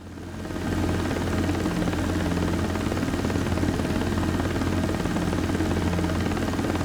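A helicopter in the X-Plane 12 flight simulator game flies on final approach, its steady, loud rotor and engine drone constant throughout after a brief rise at the start, with no talk over it.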